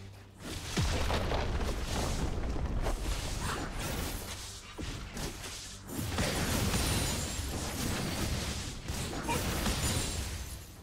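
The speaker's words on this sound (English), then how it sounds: "Red team's turret has been destroyed." Turret destruction in League of Legends, heavy crumbling booms at the start and again midway, set inside dense, continuous game sound effects.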